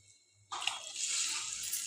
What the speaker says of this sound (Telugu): దీనిలో ఒక 2 గ్లాసులు నీళ్ళు పోసుకోవాలి.